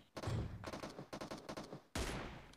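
Gunfire from a sniping video game: a loud opening blast, then a rapid run of shots, and a final heavy booming report that rings out, close and dominant with no voices.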